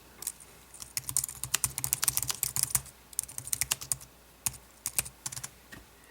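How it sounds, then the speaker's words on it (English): Fingers type on a Logitech K760 Bluetooth keyboard paired to an iPad, in close, crisp keystrokes that come in irregular bursts with short pauses, with no talking. "So now I can start using my iPad with the keyboard."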